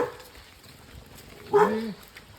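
A dog named Milly gives a short whimpering yelp, brief and moderately close, over quiet background noise.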